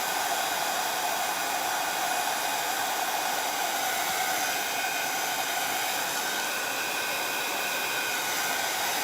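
A hair dryer blows steadily to dry paint on a wooden Dollar Tree Easter egg, a constant whooshing hiss at moderate level that runs unbroken from start to finish.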